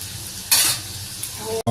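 Chhana-stuffed patti singara frying slowly in oil, a steady close sizzle with a brief louder burst of crackling partway through and a short stir near the end, no voices.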